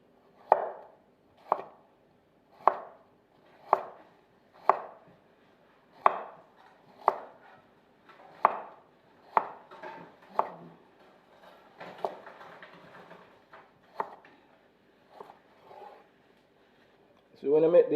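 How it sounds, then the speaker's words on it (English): A knife julienning carrot on a cutting board, with crisp, close, evenly spaced chops at about one per second that grow quicker and more scattered toward the end before a final louder knock. "we are julienne with carrot"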